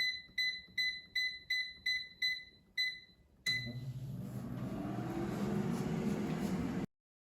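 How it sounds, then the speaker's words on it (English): An air fryer set to 350 degrees Fahrenheit for frozen crab rangoon gives a run of eight short, evenly spaced electronic beeps. A steady whirring fan hum then starts and continues until it cuts off abruptly. "let's put the basket in the air fryer, and I will set the temperature to 350 degrees Fahrenheit"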